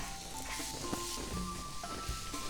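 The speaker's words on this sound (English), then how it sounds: "As I cook the veggies" Vegetables for yakiniku frying in a pan, giving a soft continuous sizzle with scattered pops and light clatter at low volume.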